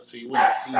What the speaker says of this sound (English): Yeah, that's my dog barking,